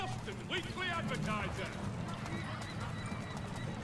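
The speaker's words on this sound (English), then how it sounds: "Oh, look, a horse." A horse whinnies and hooves clop along over background music and game ambience in Assassin's Creed 3, with a voice talking through much of it.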